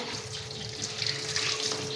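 Onions are washed in a kitchen under a running tap, a close, steady gush of water splashing into a sink with no voices.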